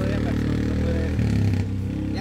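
Quad bike (ATV) engine revving loudly and steadily up close, with a brief surge in pitch midway, under excited voices shouting.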